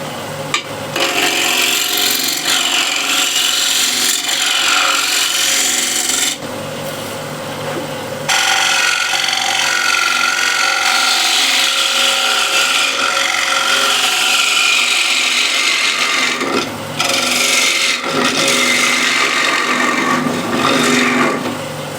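A spindle gouge cuts wood spinning on a lathe at about 1300 RPM, a loud continuous rasping, scraping hiss with short pauses and changes in tone as the tool moves, close and alone.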